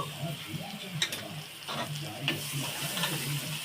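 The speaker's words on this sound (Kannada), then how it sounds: "ಕಾಯಿ ತುರಿ ಮತ್ತೆ ಕೊತ್ತಂಬರಿ ಎರಡು ಹಾಕೊಂಡು ಇವಾಗ ಚೆನ್ನಾಗಿ ಮಿಕ್ಸ್ ಮಾಡ್ಕೋಬೇಕು" Grated coconut and coriander are stirred into pumpkin palya in a pan, with a soft steady sizzle under repeated scraping and stirring strokes close by.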